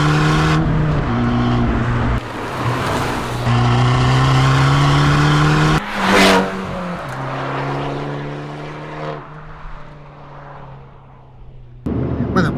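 An Abarth 695 C Competizione 2023 with a 180 CV engine and limited-slip differential drives on a city street, its loud engine note rising and falling through gear changes with strong harmonics, then dropping off abruptly near the end.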